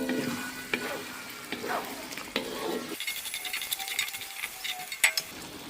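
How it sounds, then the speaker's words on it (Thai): Garlic stalks stir-fried briefly in a pan for a Chinese-style braised duck dish, giving a steady close sizzle with scraping stirs and a few sharp utensil clinks, no talking. "ใส่ต้นกระเทียมลงไปแล้วก็ตัด ผัดแค่แป๊บเดียวค่ะ"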